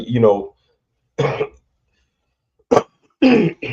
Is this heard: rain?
no